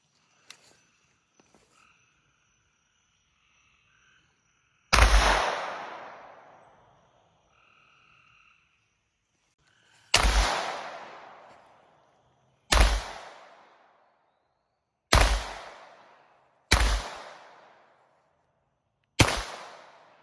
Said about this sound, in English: Maybe put about 5 shots downrange.